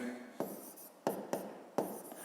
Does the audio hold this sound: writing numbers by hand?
yes